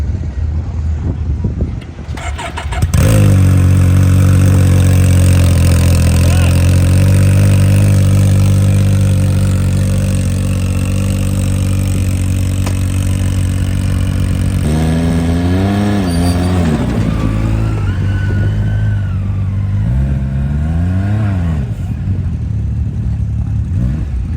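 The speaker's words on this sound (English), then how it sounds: "So loud. It doesn't have much of a muffler on it." A side-by-side with very little muffler starts up loud and close, then holds a steady rumbling idle before rising and falling through several sharp revs near the end.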